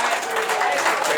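A brief burst of party-crowd applause and clapping for a performer at a private party in Rialto, CA, dense and steady, with crowd voices blended in.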